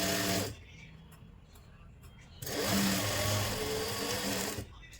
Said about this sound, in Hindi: अभी मैं इसके ऊपर एक सिलाई अंदाजे से लगा लेती हूँ